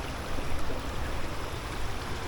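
A slow-moving stream runs through a flat meadow, a close, steady broadband gurgle and wash of water that stays even for the brief stretch, with no voices.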